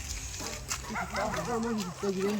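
Dogs barking at night outdoors during a late-night walk, repeated yelping barks with wavering pitch rising over a steady background hiss, fairly close and moderately loud.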